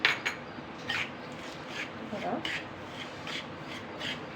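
Semolina roasting in a pan with oil while a spoon stirs it, giving soft, rhythmic scraping and rubbing strokes, close and quiet.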